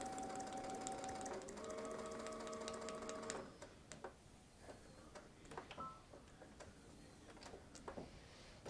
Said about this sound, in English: we're going to backstitch a couple times